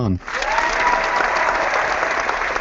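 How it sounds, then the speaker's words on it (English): Steady applause rises after a brief voice at the start and carries on evenly through the rest, a dense continuous clapping wash at close-to-moderate distance. "here's my applause for John"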